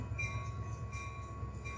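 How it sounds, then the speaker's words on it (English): A train rumbles past on the other side of a wall, a steady low rolling drone with a faint high whine on top, continuous and muffled throughout. "Oh, there's a train."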